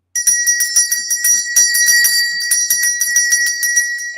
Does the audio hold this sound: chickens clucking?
no